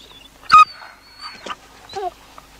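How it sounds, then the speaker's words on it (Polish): A dog whimpers and yips indoors in a 1988 Polish film scene, a few short high whines and one louder yelp spread over two seconds, close and otherwise quiet. "to jest pies, proszę pani."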